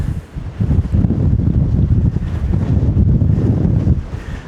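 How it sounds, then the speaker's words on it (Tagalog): Strong gusty wind buffets the microphone in Santorini, a loud, continuous roar with rapid low-end bursts throughout. "Sobrang lakas ng hangin."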